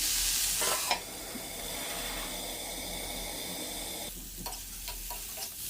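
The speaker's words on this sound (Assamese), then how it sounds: "গাজৰখিনি আধা ভজা হোৱাৰ পিছতে ব্ৰকলিখিনি দি দিছোঁ, নিমখ দিছোঁ, আকৌ লৰাই দিছোঁ।" Carrots and broccoli frying with salt in a pan, a steady close sizzle throughout, with a brief clatter near the start and scraping stirs toward the end.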